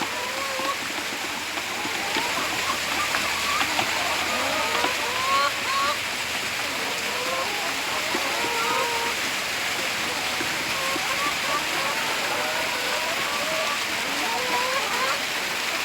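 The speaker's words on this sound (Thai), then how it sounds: "ฝนตกนะครับผม" Steady rain hisses continuously over a backyard laying-hen farm in Yasothon, Thailand, with people talking underneath.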